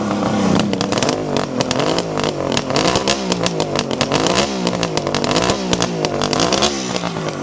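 A 1974 Kawasaki motorcycle engine, cold, with freshly rebuilt carburettors, revs loud and close, its pitch climbing and falling in repeated throttle blips over a steady idle, with no talk.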